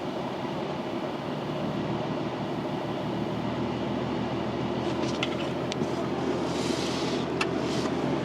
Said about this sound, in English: I've got to crank the engine right now.